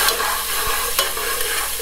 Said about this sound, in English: So now we're gonna mix it all together.